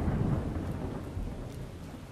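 Continuous heavy rain hisses throughout while a low rumble of thunder rolls underneath in the game Miscreated, no voices present.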